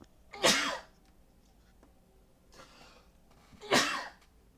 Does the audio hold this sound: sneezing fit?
yes